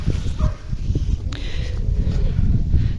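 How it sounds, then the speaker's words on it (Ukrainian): Dogs bark repeatedly in the distance, several overlapping yaps amid low outdoor rumble. "чого собаки розходилися"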